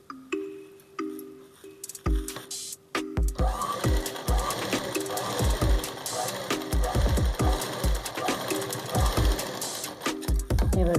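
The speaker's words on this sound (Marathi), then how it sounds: "हे बघा आता याला आहे ना असं इथून शिवून घ्यायचं." Sewing machine stitching a katori blouse, running in short bursts with pauses throughout, close and fairly loud, while a person talks over it.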